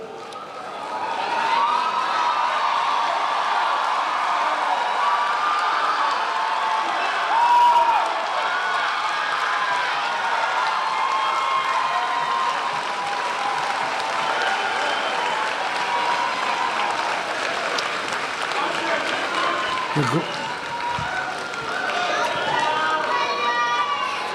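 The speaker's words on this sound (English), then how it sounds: "you have one more chance for applause" Graduation audience at a high school early college ceremony applauds and cheers steadily for over twenty seconds, a dense sustained wash of clapping with whoops and crowd noise throughout.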